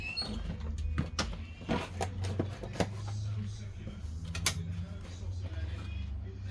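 A dumpling maker machine is opened, giving a run of creaks, clicks and mechanical snaps at close range. The sounds are fairly quiet, with a low voice murmuring in the background.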